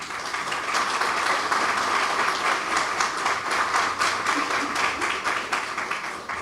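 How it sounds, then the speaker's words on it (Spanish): A presentation audience gives a sustained round of applause, dense clapping from many hands that stays loud and even throughout. "Recibamos con un fuerte aplauso,"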